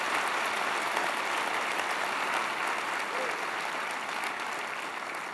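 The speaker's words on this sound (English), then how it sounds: "How about a warm round of applause for Zach?" Warm, dense audience applause for Zach at an opening keynote, loud and sustained throughout, tapering slightly near the end.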